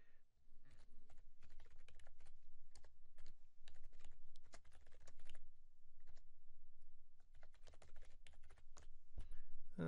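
Steady typing on a computer keyboard in a dark, quiet room: a rapid, irregular run of close, soft key clicks that continues throughout with brief pauses.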